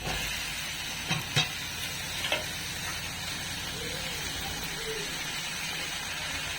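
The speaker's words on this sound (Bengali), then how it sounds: "এরপর দিয়ে দিচ্ছি কেটে রাখা সবজি।" Chopped vegetables go into hot oil and spices, producing a steady, even sizzle under a faint hum. A couple of brief knocks from the pan or utensil sound early on.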